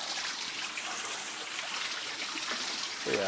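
Water running steadily past a water wheel beside a small bridge and tunnel near the back of a hospital garden, a continuous moderate trickling wash heard from close by with no talk.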